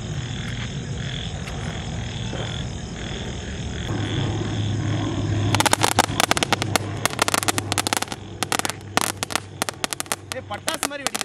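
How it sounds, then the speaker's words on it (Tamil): A quiet hiss, then a rapid string of sharp crackling pops from a lollipop firecracker bursting continuously for several seconds during Diwali, close and loud. "இது எப்படி இருக்குன்னு வெடிச்சு பார்ப்போம்"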